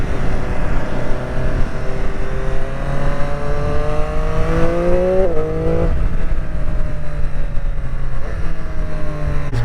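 A 2021 Triumph Street Triple RS motorcycle engine under way, loud and continuous, its pitch climbing as it accelerates through the gears, then dropping at a shift before rising again.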